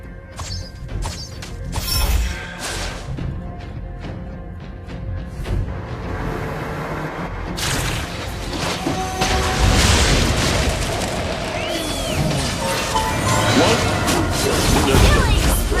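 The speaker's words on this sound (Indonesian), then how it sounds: "Our turret has been destroyed." A turret being destroyed in the Mobile Legends game, heavy booming crashes and crumbling impacts building over a busy battle mix, with an announcer voice and background music.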